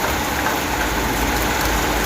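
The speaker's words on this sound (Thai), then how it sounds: "ฝนตกลงมา" Rain pours onto a car during a drive to pick up children from school, a steady broadband hiss of drops that runs the whole time, mixed with a low engine drone and no talking.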